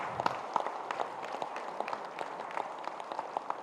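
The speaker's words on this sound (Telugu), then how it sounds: "గట్టిగా చప్పట్లు కొడదాం" Audience applause at a village meditation celebration: dense, steady clapping from many hands at moderate volume, continuing without pause and free of speech.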